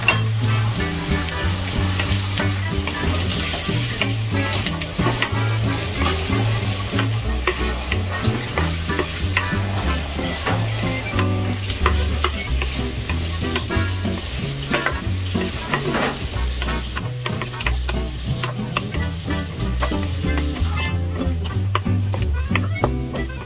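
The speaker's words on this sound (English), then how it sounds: "I'm going to add also our bell peppers, the green and red" Green and red bell peppers fry in a pan for ratatouille, giving a steady, loud sizzle throughout. Stirring clatter sounds close by, and a faint voice is heard now and then.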